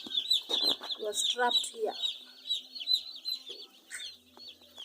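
Broiler chicks in a warm brooding house heated with charcoal burners keep up a steady, shrill chorus of peeping, close and continuous, while someone talks briefly over it.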